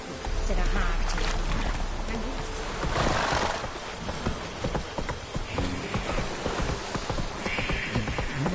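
Roach the horse's hooves clop steadily over ground in The Witcher 3, a continuous rhythmic patter under voices talking, with ambient game noise around it.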